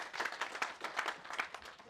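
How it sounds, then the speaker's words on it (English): A corporate customer-meeting audience claps in a short, moderately distant round of applause, a dense flutter of hand claps lasting under two seconds. "Let's give him a round of applause"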